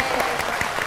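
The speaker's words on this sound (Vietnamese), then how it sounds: "Mọi người thì như mọi người vỗ tay." Audience applause at a gathering in Gia Lai, a short burst of dense clapping at steady loudness with no pauses.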